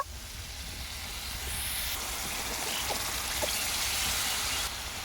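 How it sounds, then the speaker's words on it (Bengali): Spiced water going into a hot cooking pan for an egg dish, a steady broad hiss and sizzle that swells after the first second and holds at moderate loudness throughout. "এবার আমি মশলার জলটা দিয়ে দিচ্ছি এর মধ্যে আরও কিছুটা জল দিয়ে দেব"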